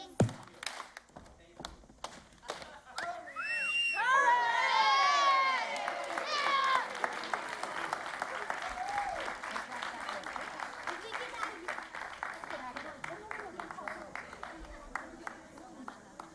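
Crowd at a packed school board meeting, with union supporters clapping and cheering in a sustained burst, with shouts and a voice rising above the noise, then thinning into scattered claps.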